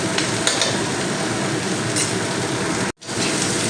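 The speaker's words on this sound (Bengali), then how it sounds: "গোলমরিচের গুঁড়োটা দেওয়ার পরে খুব ভালো করে নেড়ে দেব" Vegetable fried rice with green chilli being stirred in a pan after black pepper powder is added, giving a continuous scraping, sizzling texture with a brief silent gap near the end.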